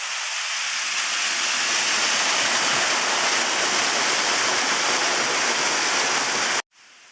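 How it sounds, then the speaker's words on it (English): A mountain waterfall near Cuenca, Ecuador, roars as a steady, dense wash of falling water, loud and unbroken throughout before cutting off abruptly near the end. "So here is the other waterfall."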